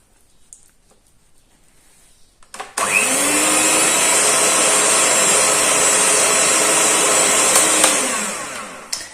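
An electric stand or hand mixer starts up and runs steadily for about five seconds while beating cake batter for Eid biscuits, a loud continuous whirring hum that cuts off near the end, with a quiet kitchen before it.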